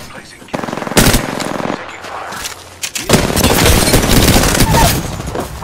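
Automatic gunfire in the video game Apex Legends, loud bursts of rapid shots with booming hits, a short pause and then sustained heavy firing.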